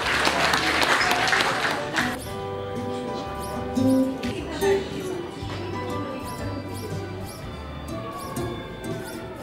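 Wedding guests applaud the godparents in a crowded hall, a dense burst of clapping loudest in the first two seconds, then thinning into scattered claps under murmuring voices and background music.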